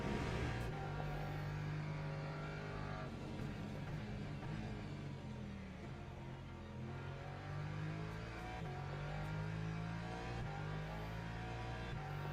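A sports car engine in a video game drones and revs steadily, pitch stepping up and down through gear changes, with no talking.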